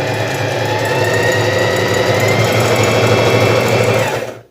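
A Facilita Pro sewing machine runs at full speed, a steady loud rapid mechanical whir with fast needle chatter that holds for about four seconds before stopping abruptly.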